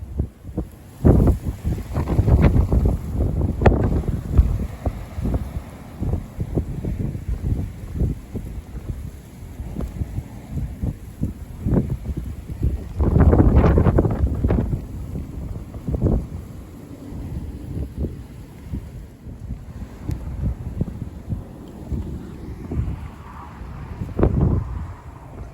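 Gusty wind during a snow squall on a mudlarking shoreline buffets the microphone in heavy, uneven rumbling bursts, loud and close throughout with no talking.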